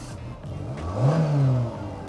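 A Renault Mégane engine is started and revved once, the pitch rising and falling over about a second above steady idle, fairly close, with no talking.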